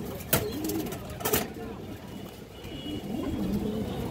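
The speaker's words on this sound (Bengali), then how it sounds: "লাল খাকি মাদি কবুতর, পুরান ব্লাড লাইনের দর্শক" A red khaki female pigeon of an old bloodline coos softly in bursts, with a couple of sharper knocks and rustles nearby and a voice talking over it.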